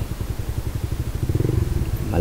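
Motorcycles give a rhythmic low engine putter that grows louder and more dense toward the end as more bikes pass nearby, and a person's voice is heard over it.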